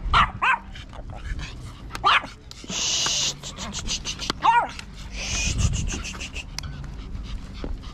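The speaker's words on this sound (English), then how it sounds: "Stop barking." A Pomeranian barks and yips repeatedly at close range in short, sharp bursts, with panting between them and a person talking over the barking.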